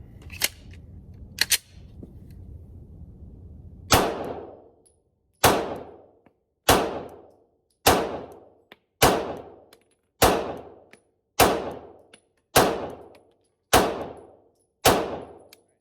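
Pistol gunshots from a handgun fitted with a Holosun HE508T-RD red dot: ten loud, sharp reports fired one by one at a steady pace about a second apart, each ringing off, after a couple of faint earlier clicks and pops.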